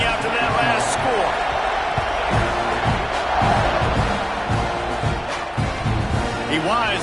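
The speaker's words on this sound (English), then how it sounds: "this crowd is buzzing after that last score" Large college football stadium crowd buzzing before a kickoff, a dense, loud, steady roar of many voices with scattered shouts and cheers throughout.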